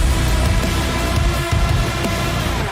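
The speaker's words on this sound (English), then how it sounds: "In the original track, there is this creepy lead that plays and it sounds like this." A creepy synth lead from the original Doom Eternal soundtrack, heard alone as a loud, dense and distorted sustained tone with a heavy low end and no talking.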